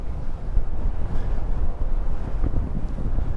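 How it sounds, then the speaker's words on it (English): Strong wind buffets the microphone in a steady low roar while cycling along the Normandy coast, rumbling and gusting continuously with no voices. "Very windy now,"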